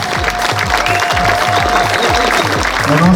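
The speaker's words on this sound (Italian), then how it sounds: "facciamo un applauso più forte, forza!" Audience at a beauty pageant claps steadily for a few seconds, a dense, loud patter of many hands alongside a rhythmic thumping beat, with no voices standing out.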